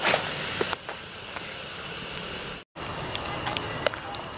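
Bakwan, crisp Indonesian vegetable fritters, sizzle in hot oil with a constant bright hiss and occasional sharper crackles and pops, near and steady, briefly cut off by a short gap.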